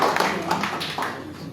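Applause from a seated audience at a Natural Capital Accounting grant program event in Liberia, a steady close patter of clapping lasting a moment with no talk over it.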